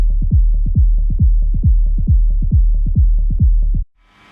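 Synthesized kick drum sub run through a high-cut EQ at 162 Hz with an 18 dB per octave slope: a steady train of about sixteen deep, rounded thumps with pitch-dropping tails, loud and alone, ending abruptly.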